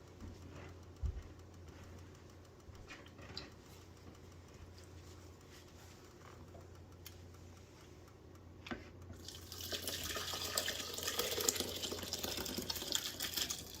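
Blended vegan asparagus, spinach and chickpea soup is poured into a blender: low background rumble and faint clatter first, then a louder, continuous liquid splashing and gurgling that fills the last few seconds.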